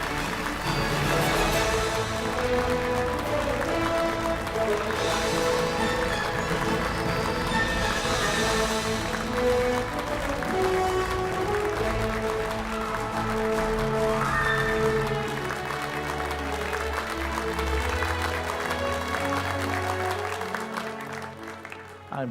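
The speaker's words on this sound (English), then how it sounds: "So big round of applause." An audience at the ATMA Annual Conclave 2023 gives a round of applause for a lifetime achievement award, with dense clapping that swells and ebbs before thinning out near the end.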